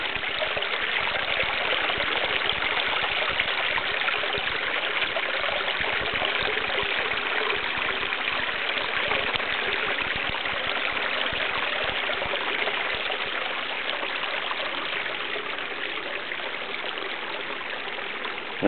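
Water gurgles and trickles along the edge of a pool inside a cave tunnel, a steady, continuous wash of splashing with no voices over it.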